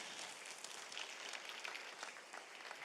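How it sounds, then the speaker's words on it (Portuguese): Broadband applause from a church congregation fills the space, steady and dense throughout with no talking over it. "Outra forte salva de palmas."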